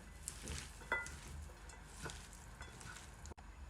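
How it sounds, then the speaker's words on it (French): A mixture for osban, Tunisian tripe sausage made with chard, stirred in a bowl, giving soft, steady wet squelching and swishing at close range, with no voices. "On mélange bien, bien,"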